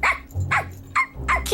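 A cartoon dog barks four times in quick, close, loud yaps, the last drawn out into a whining tone, over a low background rumble.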